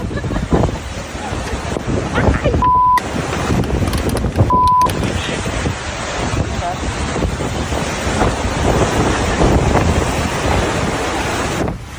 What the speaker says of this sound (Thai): เกาะล้านแทบอยู่ไม่ได้เหมือนกันครับเพราะลมมันแรงมาก